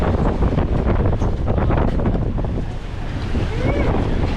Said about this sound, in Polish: Wieje strasznie